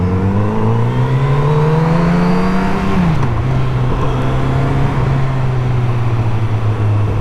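A Yamaha or Kawasaki motorcycle engine drones loud and close from the rider's position. The pitch climbs steadily, then drops with a shift and holds an even cruising note under rushing wind.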